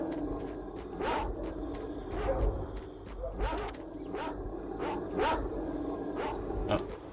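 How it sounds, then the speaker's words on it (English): Several dogs in the game S.T.A.L.K.E.R. Narodnaya Solyanka bark in a string of sharp, repeated yelps, fairly close, over a low ambient rumble. "Oh, no, I'm not gonna chance getting attacked by the dogs."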